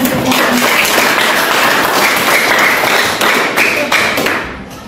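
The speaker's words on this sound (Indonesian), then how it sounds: "Oke, tepuk tangan." Classroom applause from a middle-school science class, a loud, sustained burst of many hands clapping with scattered sharper taps and thuds, tapering off toward the end.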